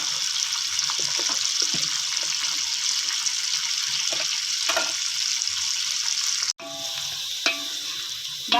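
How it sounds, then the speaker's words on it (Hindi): Chicken for chicken korma sizzles steadily in hot oil in a pan, a dense continuous crackle with a brief cut partway through. The frying then resumes just as loud. "इसको तकरीबन हमने 5-6 मिनट फ्राई करना है, ज़्यादा इसको नहीं करना।"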